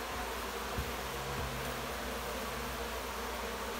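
Honey bees from a hive removed from a house make a dense, steady buzz that fills the air, with a few faint knocks.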